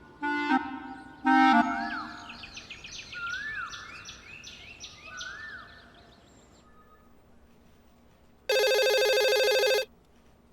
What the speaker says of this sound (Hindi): परेशान करके रख दिया आज फोन ने।